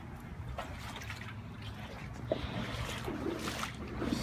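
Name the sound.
wading through thigh-deep flood water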